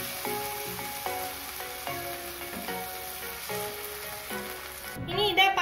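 Onion, ginger-garlic paste and tomato juice sauté in a pan for a Khoya Paneer dish, giving a steady close sizzle under soft background music, with a louder stir near the end.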